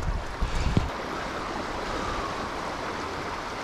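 Fast-flowing stream water rushing in on the far side of a trout pool in winter, edged with shelf ice, makes a steady, continuous broadband rush with a few brief louder splashes near the start.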